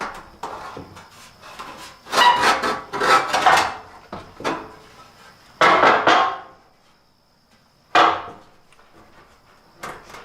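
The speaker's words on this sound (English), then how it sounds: "So that's the sound of me tearing the metal." Sheet metal from a car seatback is torn by hand in several rough, crackling bursts, close and fairly loud, separated by short quiet pauses.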